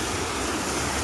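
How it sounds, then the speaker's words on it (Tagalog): Ocean waves wash onto a beach at sunset, a dense, loud roar of surf filling the short moment without pause, with no voices over it. "Yun pagmasdan ang alon"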